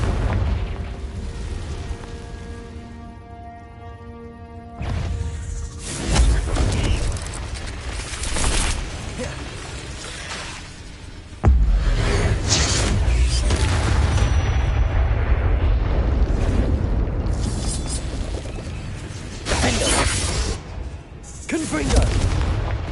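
Repeated fiery Confringo spell blasts go off in Hogwarts Legacy, deep booming explosions that burst and rumble several times, near and loud, with a voice briefly heard between them.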